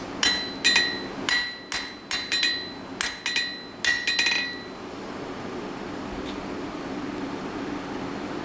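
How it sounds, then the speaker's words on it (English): A blacksmith strikes hot metal with a set hammer used as a flatter, about ten ringing metallic blows in uneven pairs and clusters, close and loud, then the ringing fades into quiet shop noise. "the set hammer as a flatter to smooth out that bottom plane"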